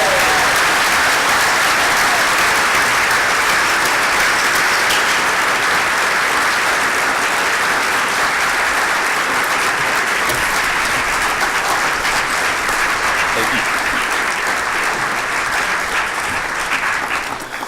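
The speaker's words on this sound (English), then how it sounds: "Give him a round of applause" A large audience at the 2017 SIX Legislator Conference applauds SIX Executive Director Nick Rathod with loud, dense, sustained clapping that holds steady for nearly eighteen seconds and tapers slightly at the end.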